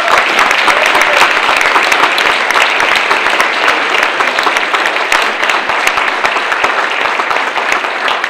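Steady, loud audience applause for a senator at a Democratic league breakfast, dense even clapping filling the room throughout.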